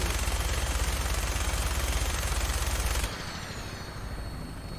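Fallout 4 minigun firing in a continuous loud rapid-fire roar for about three seconds, then cutting off to quieter spinning and background hum.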